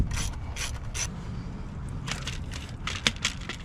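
A hand ratchet turns a bolt on the engine of a 1993 Subaru Impreza, giving short bursts of rapid clicking separated by brief pauses, close and fairly quiet, with no talking.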